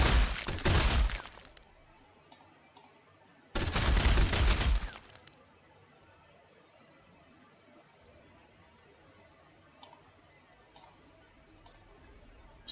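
Gretchin fire pot shots at Blood Claws in Warhammer 40,000: Sanctus Reach, two loud, harsh crackling volleys of about a second and a half each, followed by quiet battlefield ambience with a few faint ticks.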